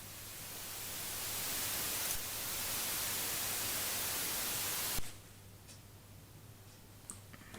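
Broadband hiss of white noise, swelling gently then cutting off abruptly, leaving a quieter faint hiss with a few small clicks.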